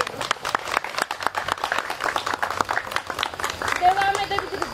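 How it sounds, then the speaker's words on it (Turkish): An outdoor audience in Bergama gives a burst of light clapping, the scattered claps carrying on for several seconds with voices mixed in. "onlara buradan bir alkış yollamak istiyorum."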